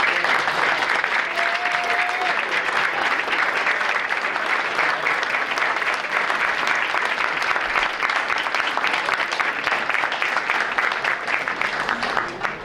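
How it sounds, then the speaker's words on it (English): Sustained applause from a large crowd at a school board meeting, steady and loud throughout, with a dense clatter of many hands clapping at once. "let us give you a round of applause for the support and work that you've done"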